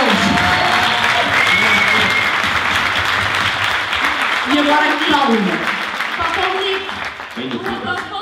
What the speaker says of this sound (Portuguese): uma grande salva de palmas para eles